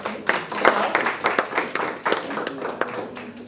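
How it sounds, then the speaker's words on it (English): Guests at an anniversary celebration of a women's council clap in a round of applause, distinct sharp hand claps in an uneven rhythm with voices talking underneath. "Let's have a round of applause again for her."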